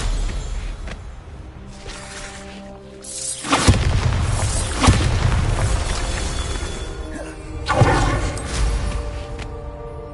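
Explosion spells go off in Hogwarts Legacy on PS5: a sharp blast near the middle with a rumbling, crashing tail, then a second bang, over a background of game music and effects.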